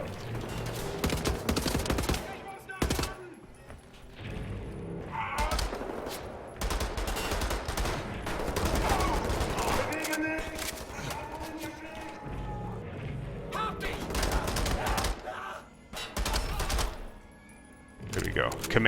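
Gunfire in the video game Wolfenstein: The New Order, rapid bursts of automatic fire and single shots in clusters, loud and close, with short pauses and occasional thuds between volleys.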